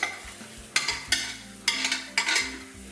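An onion tortilla cooking in a frying pan after being flipped, with a low sizzle beneath several sharp scraping or tapping strokes of a utensil against the pan, close and without talk.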